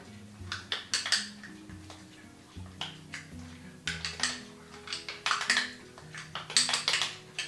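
A spoon scrapes and clinks against a bowl while yogurt with cinnamon is stirred, giving close, irregular tapping and scraping strokes with no talking.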